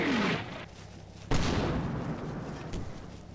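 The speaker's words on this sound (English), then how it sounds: "that's a German mortar opening up" A German mortar fires in the Combat Mission: Red Thunder war game, one sharp loud report midway followed by a lingering rumble, with a fainter earlier blast and a softer thump near the end.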